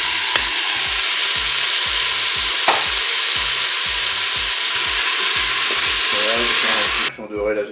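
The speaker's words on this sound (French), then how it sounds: "ça fait 1 minute que mon mini chorizo est en train de dorer" Mini chorizo and vegetables fry in a Cookeo multicooker, a loud continuous close sizzle with a rhythmic low mechanical pulsing underneath and occasional utensil knocks, with a voice briefly heard near the end.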